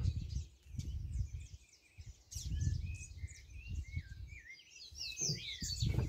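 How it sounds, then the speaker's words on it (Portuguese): Several birds chirp and warble outdoors beside a large old country house in a hilly area of Italian settlement, with varied overlapping calls continuing over low wind rumble and soft background noise. "Vamos só escutar os pássaros um pouquinho."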